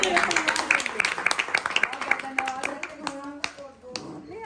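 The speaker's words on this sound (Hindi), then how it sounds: "जोरदार तालियां भाई" Enthusiastic clapping from a family gathering at a farewell ceremony, irregular and close at first, then thinning out as voices take over near the end.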